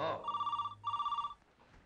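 A telephone bell rings in two quick, closely spaced trilling bursts indoors during a Marathi TV serial scene. The second burst stops, leaving quiet room tone.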